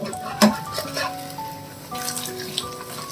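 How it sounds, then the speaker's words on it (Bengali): Pitha frying in a pan in a home kitchen, a soft sizzle under a sharp metallic clink and light scraping of utensils against the pan, short and close. "দেখো অনেকটাই ভাজা হয়েছে, কিন্তু আরেকটু ভাজতে হবে।"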